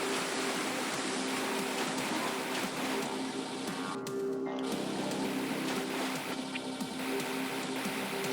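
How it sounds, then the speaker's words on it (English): A waterfall in the AM2R game, a steady broad rushing roar that stays constant throughout, with faint game tones humming beneath it. "Oh, hey, waterfalls."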